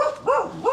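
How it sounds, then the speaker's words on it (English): A dog barks twice close by in short, loud, rising yelps on an outdoor street in Dauin, Negros Oriental, the Philippines. "Shut up, dog!"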